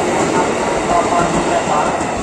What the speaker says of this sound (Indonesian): Dipersiapkan masuk komuter lain tujuan Bogor sebagai KA4352 rangkaian 8 kereta